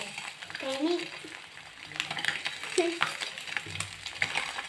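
Eggs frying in a pan, a soft steady sizzle under faint home background noise and brief voice sounds nearby.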